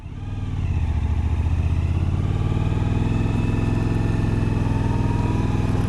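A Suzuki V-Strom motorcycle engine idling close by, a steady throbbing rumble that rises briefly at the start and then holds even and loud.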